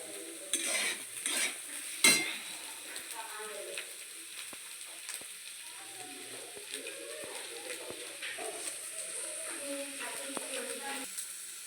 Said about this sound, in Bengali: এই যে সামান্য গোলমরিচ দেওয়া চিকেনটা একটু এই যে ভেজে নিচ্ছি